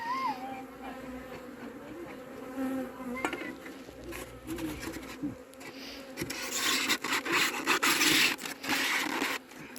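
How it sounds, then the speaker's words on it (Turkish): Dense, agitated buzzing of many honey bees swarming close by during winter hive maintenance, with scraping and rubbing of wooden frames rising in intensity toward the end. "Arılar biraz sinirlendi ama tekleri iyi."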